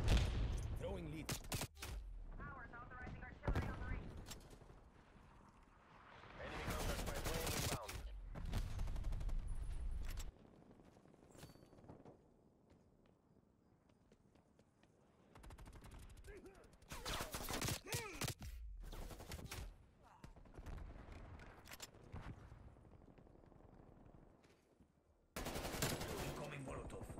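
Krig rifle gunfire in a first-person shooter: loud bursts of automatic fire separated by quieter stretches, repeated several times and close up.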